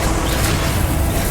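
A Confringo blasting spell goes off in the video game Hogwarts Legacy as a loud, dense, rumbling explosion of broadband noise that lasts without a break.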